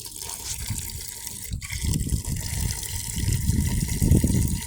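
Water gushing from a tap into a container during an ice storm, with the city supply partly turned down: a steady, loud rushing fill with a brief splashy disturbance midway, close by and without speech.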